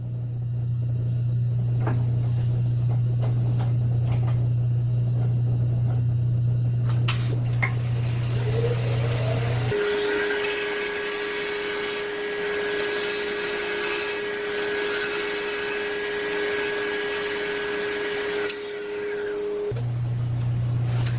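Wood sphere turned on a lathe while a tool cuts it smooth, a sustained steady whine with a constant tonal hum and broad scraping hiss that runs for about ten seconds before dropping back to motor hum.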